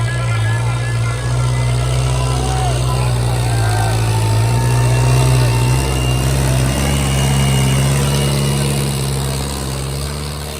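A prize-winning tractor runs with a loud, steady low engine drone throughout, close by, while outdoor crowd noise and voices mix in over it.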